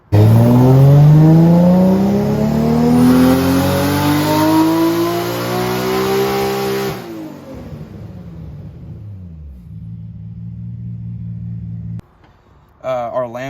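Nissan Skyline R32 GTR making over 600 wheel horsepower on a dyno, revving loudly as the engine climbs steadily through the rev range for several seconds, then drops off to a lower idle-like drone before a brief blip at the end.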